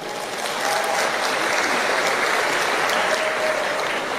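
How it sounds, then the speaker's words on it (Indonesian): Sustained audience applause fills a hall at an Indonesian Nahdlatul Ulama religious lecture, a dense steady patter of many hands clapping that swells after the first half second and holds evenly throughout. "Tepuk tangan untuk NU."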